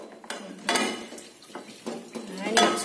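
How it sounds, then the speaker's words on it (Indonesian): Chocolate powder mixture stirred in a pan, a spoon scraping and clinking against the metal in several short bursts of rubbing and tapping, close and moderately loud. "Kemudian bisa diaduk kembali."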